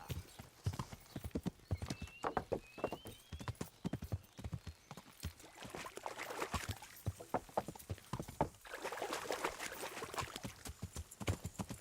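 Rapid video game horse hooves clip-clop at a steady gallop, crisp and close, with a brief whinny early on and faint ambient sound beneath.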